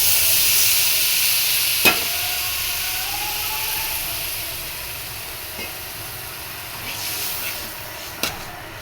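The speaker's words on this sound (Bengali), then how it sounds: "হলুদ মরিচ ধনিয়া জিরে সব দিয়ে দিলাম। একটু নাড়া দিয়ে" Turmeric, chilli, coriander and cumin frying in a pan, a soft continuous sizzle and hiss with a few sharp clinks of a spoon stirring, fairly quiet and close.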